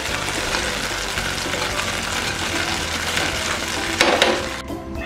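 Chicken is stirred in a hot pan with gravy nearby, giving a steady close sizzle of frying broken by scraping stir strokes, and a louder clatter comes near the end.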